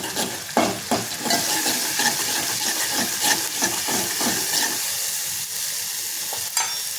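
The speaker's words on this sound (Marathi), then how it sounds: "काश्मीरी लाल मिरची मसाला हे आपल्याला व्यवस्थित परतून घ्यायचे आहे" Homemade Agri masala and Kashmiri red chilli powder sautéing in hot oil, a loud close sizzle broken by repeated scraping stirs in quick rhythm, with no talk.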